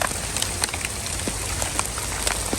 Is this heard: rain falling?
yes